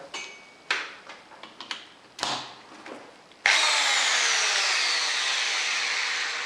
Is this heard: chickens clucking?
no